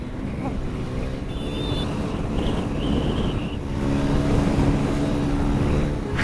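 A 100cc Hero motorcycle on the road, heard as steady engine drone mixed with strong wind rush at the microphone, with no talk throughout.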